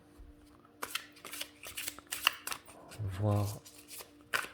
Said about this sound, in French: les cartes glissent bien